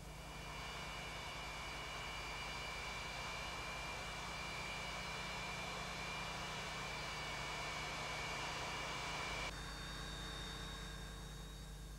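An Antonov AN-225 transport aircraft powered by six Lotarev D-18 turbofan engines produces a steady, even drone with a sustained whine, holding constant throughout with a slight shift in tone near the end.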